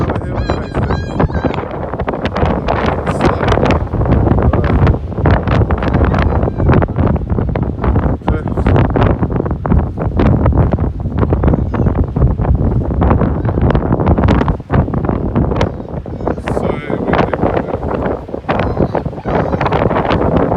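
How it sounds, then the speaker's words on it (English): A strong wind on a hill in Hastings Country Park at night roars and buffets the microphone in a loud, continuous rush, with gusty swells and rustling and no voices. "Windy night on another hill in Hastings."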